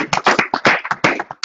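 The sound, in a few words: round of applause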